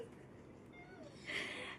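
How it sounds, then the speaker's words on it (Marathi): A black cat gives one faint, short meow at the end of a quiet indoor moment in a home. "दोन काळ्या मांजरी आहेत।"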